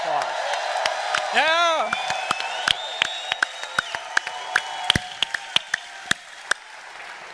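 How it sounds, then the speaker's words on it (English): Event audience giving a round of applause, with scattered sharp individual claps ringing out and a short whoop, moderately loud and fairly close, as a voice calls out briefly over them. "let's give them a round of applause."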